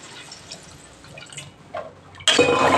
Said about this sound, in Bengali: আমি তরকারিটা জল দিয়ে দিচ্ছি।